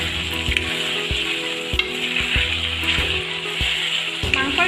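Chicken curry with cinnamon, cardamom and clove paste sizzles steadily as it is stirred in a pan, close up, with faint scraping from the stirring throughout.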